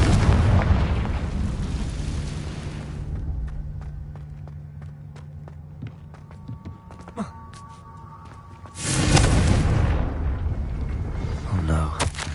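Loud Confringo spell blasts in the Hogwarts Legacy video game: a broadband explosive burst at the start, quieter scattered cracks and thuds in between, then a second big roaring blast near the end.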